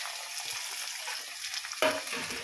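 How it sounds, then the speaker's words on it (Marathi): Onion and green chili fry in hot oil over high heat for a ridge gourd curry. A steady, bright sizzle runs throughout, with a sudden louder burst of spitting partway through as the pan is stirred. "हा कांदा जो आहे तो आपल्याला फास्ट गॅसवरती व्यवस्थित फ्राय करून घ्यायचा आहे, तळून घ्यायचा आहे"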